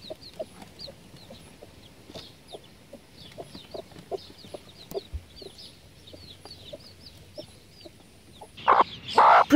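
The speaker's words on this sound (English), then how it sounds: "It starts to rain, so she moves back to the coop, making that booming noise" A broody hen heading back to the coop in the rain gives low, repeated booming clucks, with chicks peeping softly and constantly around her; a sudden louder burst of noise comes right at the end.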